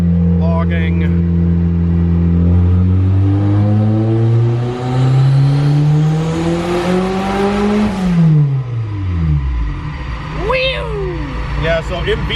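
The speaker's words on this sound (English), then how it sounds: "Let's record a pull here on the dyno" Turbocharged stock D16 engine in a Honda Del Sol, fitted with an eBay turbo kit, revs up in a long dyno pull, its pitch climbing steadily to a peak before dropping sharply as the throttle closes; loud and close, with brief voices near the end.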